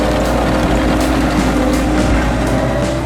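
A tractor pulls a Horsch Terrano 6F1 cultivator through stubble, its tines working about 30 cm deep at a steady speed: a loud, continuous low engine drone with constant mechanical rumble and no voices.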